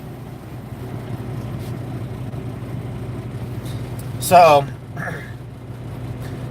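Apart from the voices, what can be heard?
truck engine running while driving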